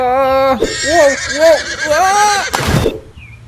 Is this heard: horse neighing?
yes